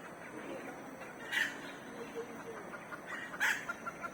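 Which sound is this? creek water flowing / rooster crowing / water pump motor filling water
rooster crowing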